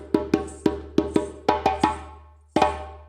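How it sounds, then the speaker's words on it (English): Djembe hand-drum signal phrase: sharp, loud slaps and tones in an uneven call rhythm, a quick cluster of strikes followed by a pause and a final accented hit, played solo and close with no talking. "This is the signal"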